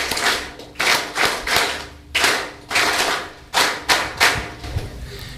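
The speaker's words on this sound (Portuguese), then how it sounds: "Uma forte salva de palmas." An audience at a formal national ceremony in Mozambique applauds loudly in rhythmic, unison bursts of clapping, with short pauses between the surges.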